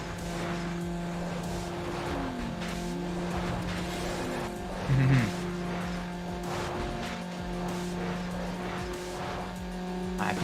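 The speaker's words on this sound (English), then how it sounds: "You can hear that Boxer engine right behind us." A Subaru's boxer engine drones steadily in Need for Speed Underground, a low constant hum with faint tire squeals, no traffic noise, and a brief louder burst midway.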